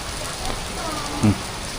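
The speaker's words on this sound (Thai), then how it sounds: "โอ้บรรยากาศตอนฝนตก" Heavy afternoon rain falls across the open pedestrian streets of Siam Square in Bangkok, a steady broadband hiss with a brief louder thump near the end and faint voices in the background.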